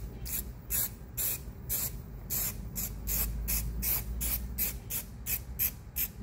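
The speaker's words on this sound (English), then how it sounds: "So I'm just gonna spray some adhesive" Spray adhesive hisses onto the top of a vent flange in quick, evenly spaced bursts, about a dozen short close-up sprays in a row with no talking.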